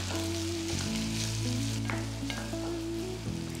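Finely chopped medium onion sautés in a pan for rava upma, a steady close sizzle and crackle with faint stirring scrapes throughout.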